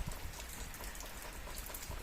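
Steady rain falls outside in May, a soft, even patter of drops on surfaces with occasional louder splats, continuous and fairly faint, with no voices.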